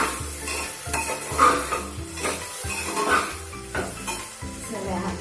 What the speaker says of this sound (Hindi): इस वेजिटेबल को इसमें डाल रही हूँ अभी।